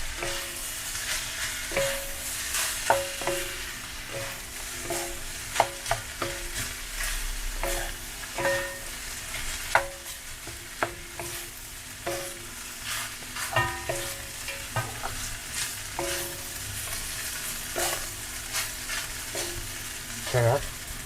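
Steamed rice stir-fried in a hot wok for Chinese fried rice, with a steady sizzle and repeated scraping strokes of a spatula throughout, close and fairly loud, no talking.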